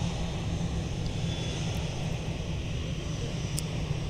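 Airbus A319 airliner taking off at MSP airport, a steady, loud broadband engine roar with a low rumble that holds constant throughout, no talk over it.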